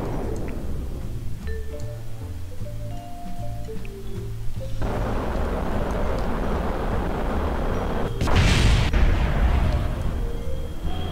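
A surface-to-air missile launches from a SAM site in a naval combat video game: steady low rumbling engine noise, then a loud broadband whoosh bursts in near the end and holds as the missile leaves.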